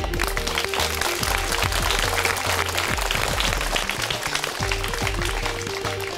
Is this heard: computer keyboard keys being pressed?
no